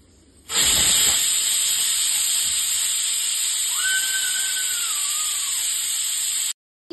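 A pressure cooker whistle lets off a loud, sustained hiss of steam while rice boils, bursting on abruptly and running steadily for about six seconds before cutting off, with a faint wavering tone riding over it.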